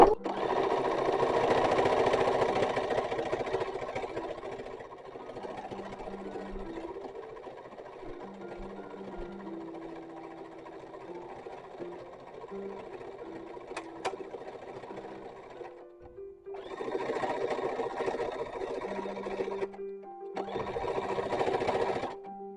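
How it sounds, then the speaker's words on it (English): A sewing machine hems white cotton baby petticoats in a 19th-century style, running in long steady bursts of rapid stitching with short pauses between runs, close and fairly loud. "we're going to get all the machine work done, so I'm going to hem the white petticoats"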